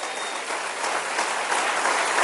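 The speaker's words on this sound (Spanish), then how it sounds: "Le puedo dar un aplauso al Señor todavía." Church congregation applauding together during a Spanish-language service, a sustained even roar of many hands clapping that swells slightly toward the end, with no speech over it.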